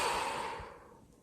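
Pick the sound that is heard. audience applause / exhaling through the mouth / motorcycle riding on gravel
exhaling through the mouth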